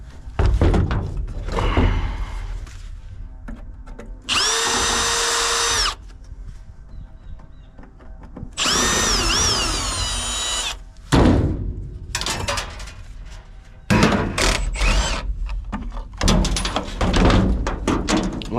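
Power drill backing out the motor from a scrapped heater sounds in several whirring bursts of one to two seconds, broken by clunks and metal handling noises in between, all up close.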